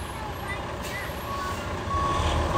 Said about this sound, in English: Our kids are standing, looking at this truck backing in like awe.